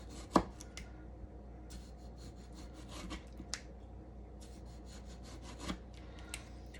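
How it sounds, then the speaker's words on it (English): A knife slicing a tomato into thin slices on a board gives a few faint, soft cutting ticks spread out in a quiet kitchen, with no talking. "So we're going to slice up our tomato."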